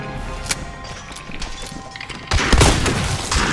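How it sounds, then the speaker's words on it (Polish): Gunfire in the video game Hunt: Showdown, a loud burst of shots breaking in partway through over a dim game background, with brief sharp cracks. "Kolejne dwa strzały."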